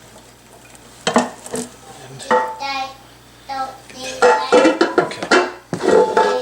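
A utensil scrapes the last bits of drained, browned beef into a slow cooker for a crockpot spaghetti meat sauce, with intermittent clinks and scrapes of metal on the pot. A voice speaks briefly between the sounds.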